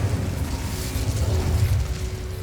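An Incendio fire spell cast in Hogwarts Legacy bursts out with a dense, rumbling whoosh of flame that rolls on steadily for a couple of seconds, close and fairly loud, with no voices over it.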